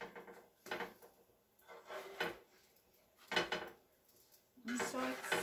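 Homemade English muffins are flipped in a pan: several short bursts of scraping and clattering cookware, each separated by quiet pauses.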